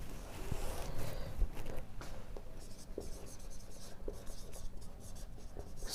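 Steady, scratchy writing on a board, close and continuous for several seconds, with small taps and strokes against a low room hum.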